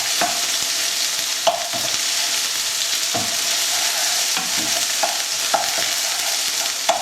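Beef strips stir frying in a hot pan, a loud continuous sizzle broken by repeated scraping clicks of stirring, with no voices.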